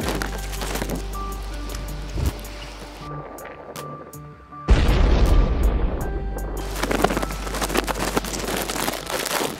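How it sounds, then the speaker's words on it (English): A sudden loud blast bursts in about halfway through after a quieter stretch, followed by a dense roar and crackling debris that continues to the end. "Was that an explosion?"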